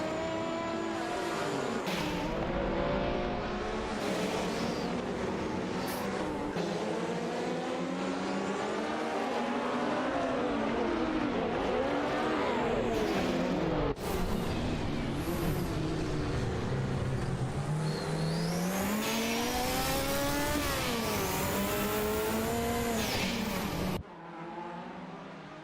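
Two racing-game cars, a Ford Escort Mark II and a Ford Capri, roar loudly and steadily through nearly the whole stretch, with engines repeatedly revving up and shifting down through gears before cutting off abruptly near the end.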